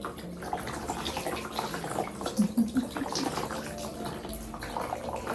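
Water runs and splashes steadily as a baby's head is washed in a bath, with a continuous close wash of liquid sound and soft voices murmuring underneath.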